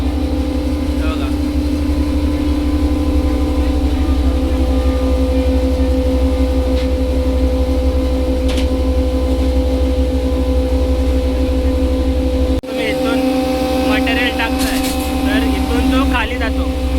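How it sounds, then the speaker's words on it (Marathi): A spice grinding machine runs at a masala market, a loud steady mechanical drone with a strong low hum, briefly cutting off before starting again, with people talking nearby. "ते याला परत बारीक करायला पिसायला परत मशीनमध्ये टाकतात"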